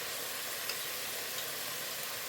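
Sauce tipped into a hot pan for a Thai dish, a continuous soft hissing sizzle with faint stirring ticks, close and even throughout.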